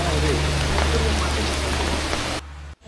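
Heavy rain pours steadily at the Hiranyakeshi temple in Amboli, a loud, dense, continuous patter that suddenly drops away near the end.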